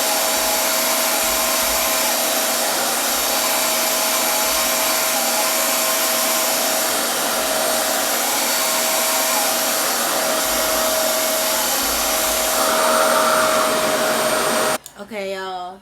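A RevAir blow dryer drying hair gives a steady, loud whooshing drone with a faint whine that holds for most of the clip, then cuts off abruptly near the end.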